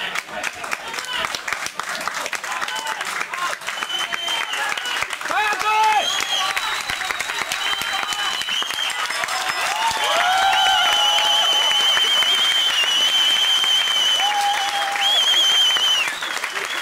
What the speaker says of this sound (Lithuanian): Publikos aplodismentai.